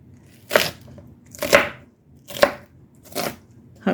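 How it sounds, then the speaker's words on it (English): A knife cuts through carrots on a cutting board in five separate, evenly spaced chops, each a sharp crunch close by, with quiet pauses between. "So what I'm going to do is I'm just going to just cut through it."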